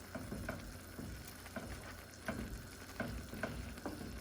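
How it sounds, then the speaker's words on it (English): Beef pasta noodles being stirred in a pot, with a steady low bubbling and soft rhythmic scrapes and clicks of the spoon repeating about every half second, close and moderately quiet. "now I'll stir these around"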